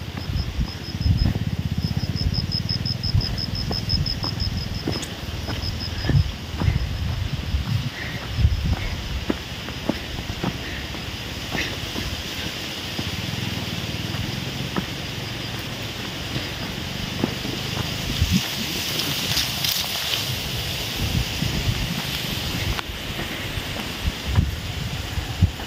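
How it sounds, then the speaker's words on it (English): Gusty outdoor wind buffets the microphone steadily in a rural Philippine province, with scattered rustles, faint footsteps and occasional soft distant voices underneath. "windy, little bit windy."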